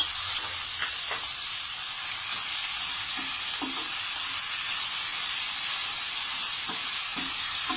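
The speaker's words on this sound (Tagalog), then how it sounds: "Sunod natin ilagay yung namarinate natin na giniling. So, pabayaan lang muna natin ito na maluto." Marinated ground pork or beef sizzles steadily in a hot pan, a constant close frying hiss with occasional soft pops and stirring clicks, no voices.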